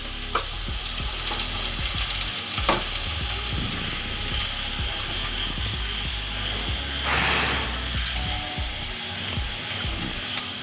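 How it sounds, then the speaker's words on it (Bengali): Onions frying in a pan with a little salt until browned red, giving a steady, close sizzle broken by occasional sharp stirring clicks and scrapes, with no voices. "পেঁয়াজটা লাল লাল করে ভাজা হয়ে গেছে।"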